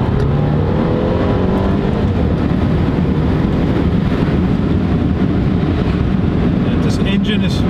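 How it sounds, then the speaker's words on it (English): A Mercedes-Benz A250 (A-Class) engine and exhaust as the car downshifts in manual mode, a loud continuous engine drone with cabin road noise heard from inside. "this engine pulls pretty good. The exhaust sounds very good."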